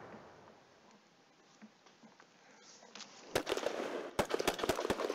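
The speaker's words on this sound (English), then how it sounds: "More artillery." Artillery fire in the Panzer Campaigns Stalingrad '42 war game: a quiet stretch, then a burst of sharp, crackling blasts in quick succession, followed by several more separate loud bangs.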